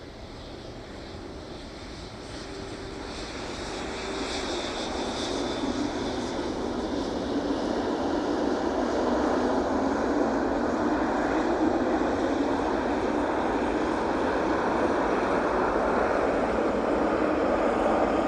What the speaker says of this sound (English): There it is. Arriving in after 6 hours and 52 minutes from Dubai.